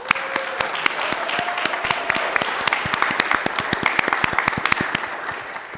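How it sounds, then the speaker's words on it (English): An audience at a county board of supervisors meeting claps steadily for several seconds, a dense roomful of overlapping hand claps at a strong, even level. "Let's give a round of applause for them"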